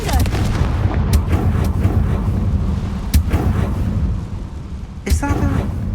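A Confringo blast curse explodes in the video game Hogwarts Legacy, a loud booming burst followed by a sustained rumbling roar, with sharp cracking impacts punctuating the din.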